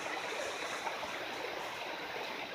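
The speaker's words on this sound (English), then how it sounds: "We just climbed up to the top of the tall waterfalls on a little side trail." A tall waterfall in Maine, heard from near its top edge, makes a steady, dense rushing roar that stays even and unbroken throughout, with no voices.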